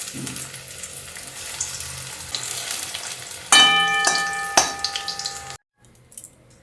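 Methi leaf fritters (bora) deep-frying in hot oil give a steady close sizzle, with a few sharp metallic clinks from a utensil partway through before the sizzle cuts out near the end.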